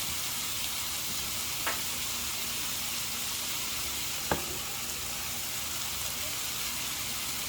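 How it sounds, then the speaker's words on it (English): Garlic sizzles in a frying pan alongside browning sausage for a spaghetti sauce, a steady soft hiss throughout with a couple of brief clinks of a utensil against the pan. "So now I'm going to add the garlic."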